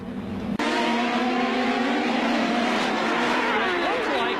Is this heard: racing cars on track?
yes